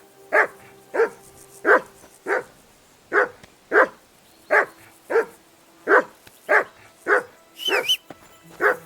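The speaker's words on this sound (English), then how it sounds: "Say something to that dog." A dog in the video game Kingdom Come: Deliverance II barks about a dozen times at a steady, fairly quick rhythm. The barks are loud and close, with a higher yelp near the end.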